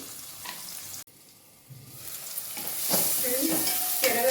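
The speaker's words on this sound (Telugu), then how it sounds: "టమోటాలు కూడా బాగా ఫ్రై చేసేసుకోవాలి." Tomatoes frying in a pan for egg fried rice, a steady sizzle with stirring scrapes that grows denser and louder toward the end, close and without voices.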